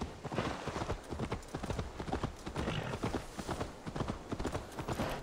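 Horse hooves clip-clopping in Assassin's Creed Valhalla, a steady trotting rhythm of sharp hoofbeats at moderate volume with a faint neigh mixed in.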